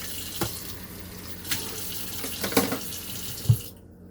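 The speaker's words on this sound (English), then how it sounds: "Put a little water." Tap water runs steadily into a kitchen sink while chicken is being cooked, a continuous close splashing stream with a few small clatters before it cuts off near the end.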